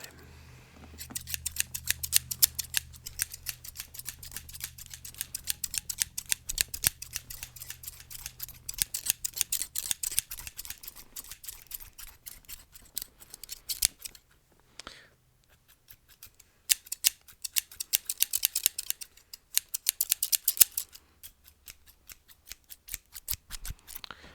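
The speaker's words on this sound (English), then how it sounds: "I think we can work in the little scissors a little bit here" Rapid snipping of small scissors cutting long hair comes in quick bursts of crisp, close clicks, pausing briefly between runs, with a faint low hum behind.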